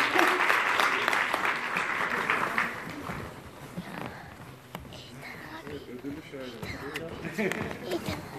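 Audience at an award ceremony for a symposium applauding, loud clapping at first that fades, then a few scattered claps while people talk and move about.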